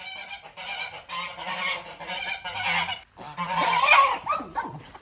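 A flock of geese at a farm barn honk loudly and continuously in overlapping raucous calls, close by, with no talk.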